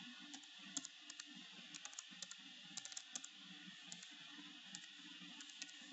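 Steady typing on a computer keyboard, quick irregular key clicks at close range with short pauses, alone in a quiet room.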